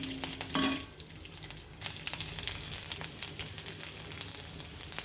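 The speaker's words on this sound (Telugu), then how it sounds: "ఇదిగోండి పోపు చిటపట్లాడిపోయింది, చూసారా, వేగిపోయింది." Tempering spices splutter and crackle in hot oil for dal, a close, busy sizzle with rapid pops. A metal clink of a pan or spoon comes near the start.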